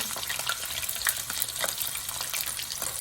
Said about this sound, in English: We're gonna wait a little while to cook it until it's brown.